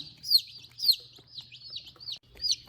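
Young barred rock chicks peeping in a series of high, sharp chirps repeated every half second or so, close and clear with no talking.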